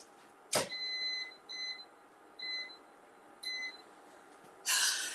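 An air fryer beeps as it is set to 400 degrees, a series of short, quiet electronic beeps in an irregular rhythm, followed by a brief louder rustle, with no talk.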